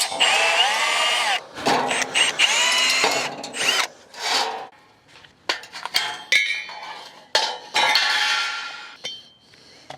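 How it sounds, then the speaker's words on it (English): A power drill bores out metal rivets in short, repeated bursts of high whining grind, stopping and restarting between rivets with small clinks in the pauses. "So now I'll just drill the rivets out."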